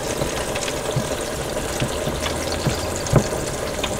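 Snickers bars deep frying in a bowl of hot oil make a steady bubbling sizzle with occasional soft pops and one louder crackle near the end.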